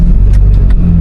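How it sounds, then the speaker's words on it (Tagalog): A car close by, a loud, steady low engine rumble and road noise filling the short moment with no voices over it. "Sasakyan yan."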